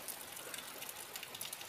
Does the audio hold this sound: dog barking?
no